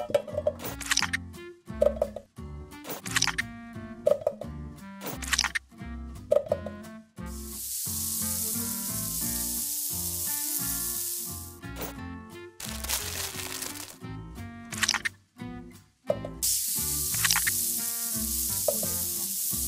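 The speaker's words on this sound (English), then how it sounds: "now just turn on the heat and throw everything in the pot" Chili ingredients hit a hot pot and sizzle, with bursts of loud frying hiss between clattering, rattling handling sounds and stirring, all close and with no talking.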